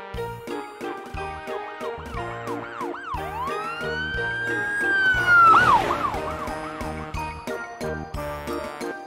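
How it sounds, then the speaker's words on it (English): Police patrol car siren wailing in long rising and falling sweeps over a bright, tinkling backing tune, loud and steady throughout. "Police patrolling car."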